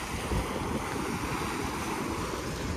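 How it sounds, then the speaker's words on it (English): Ocean waves crash and roar steadily at the beach at Avon-by-the-Sea, a dense continuous surf wash with wind buffeting the microphone throughout, no voices heard. "These waves are pretty insane to be by that."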